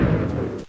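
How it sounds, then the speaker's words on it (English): Explosive lava blast from a magma staff in the Minecraft WizardCraft mod, a single loud rumbling boom with crackling texture that sustains briefly before cutting off abruptly. "a bigger explosion and some lava mixed into it for added effect"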